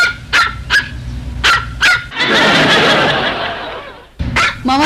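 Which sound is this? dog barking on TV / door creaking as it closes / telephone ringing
dog barking on TV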